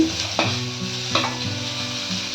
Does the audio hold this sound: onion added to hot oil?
yes